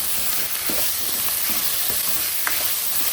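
Capsicum frying with salt in a pan, a steady broadband sizzle with occasional stirring scrapes and clicks, close and continuous with no talking.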